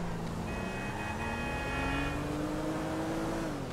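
A car being driven in GTA V Online gives a steady engine drone that rises slowly in pitch, with a brief tonal horn-like note layered over it in the middle and constant road noise beneath.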